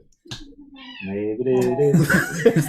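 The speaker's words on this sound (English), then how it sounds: "That's our cat" A pet cat named Padme gives a drawn-out meow at close range, overlapped and followed by people talking.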